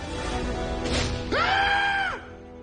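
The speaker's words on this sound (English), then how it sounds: "Did you just scream like a little girl?" A character in the Transformers Prime animated series lets out a brief, high, wavering scream over the soundtrack's background score.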